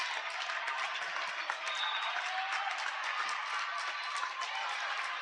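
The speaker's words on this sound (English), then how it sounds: "This will be a fan favorite. Crowd goes nuts." A high school girls' basketball crowd in a gym claps and cheers continuously after a made free throw, a dense, steady wash of applause at moderate distance.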